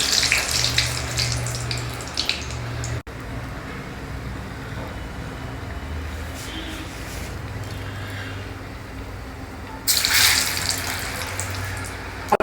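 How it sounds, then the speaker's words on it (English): Vada batter drops into hot oil and fries with a steady crackling sizzle, growing busier in short bursts near the start and again toward the end, with a low hum underneath. "shape the vada and carefully just drop it into the oil"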